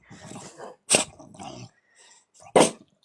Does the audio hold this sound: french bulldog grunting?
yes